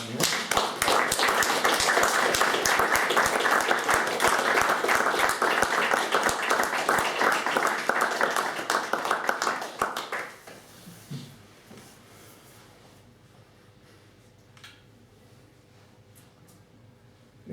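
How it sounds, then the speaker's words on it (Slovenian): Audience applause after a talk at a Slovenian panel discussion, dense and loud clapping filling the room for about ten seconds, then stopping abruptly and leaving quiet room noise with a few faint taps. "Ploskam."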